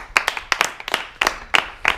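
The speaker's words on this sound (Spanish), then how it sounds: "¡Tiempo, aplauso!" An audience at a freestyle rap battle claps in a brief, uneven burst, with distinct sharp claps close by spaced irregularly over a couple of seconds.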